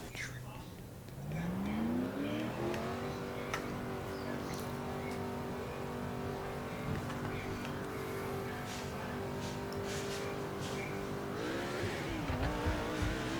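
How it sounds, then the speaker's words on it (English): A stock car from the NASCAR 2005 racing video game sets off on a qualifying run at Old Spice Speedway, its engine pitch climbing quickly, then holding a steady high drone before dropping near the end. "Starting our qualifying run at Old Spice Speedway"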